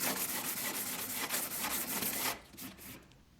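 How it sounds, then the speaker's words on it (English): Sandpaper rubbed by hand over spot welds on a BMW 2002 door, a close, steady scratchy back-and-forth rasp that stops partway, leaving a few lighter strokes. "it's not a bad idea to take some sandpaper to expose them a little more"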